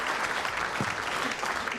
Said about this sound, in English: Let's hear it for the team